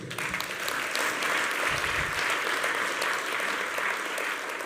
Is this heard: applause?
yes